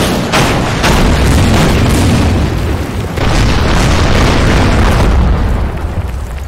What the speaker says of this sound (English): the sound of naval guns is loud in this game